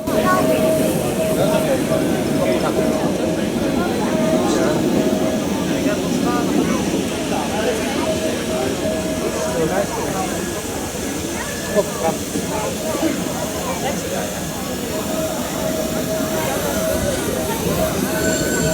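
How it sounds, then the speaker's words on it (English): A steam-powered boat engine drones steadily with rhythmic chugging, continuous, loud and close, with a faint high whine on top, at a polder open day. "As you can see, a steam powered boat, that's no slouch."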